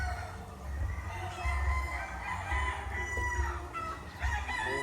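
Gamefowl roosters at a breeding facility crow repeatedly, several birds overlapping near and farther off, with low clucking and a steady background hum between calls.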